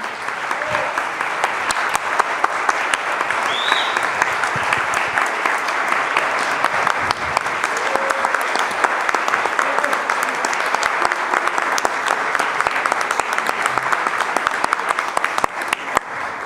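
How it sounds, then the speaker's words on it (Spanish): A large crowd at a book presentation applauds continuously, loud and steady throughout, with a few faint cheers rising out of the clapping. "Pónganse de pie, monos blancos, por favor, para recibir este aplauso."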